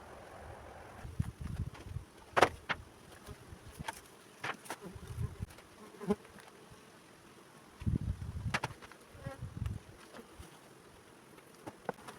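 Honey bees buzz around an opened hive during colony work with little smoke, heard as intermittent close buzzing passes and faint droning among handling knocks and rustles, with no voices.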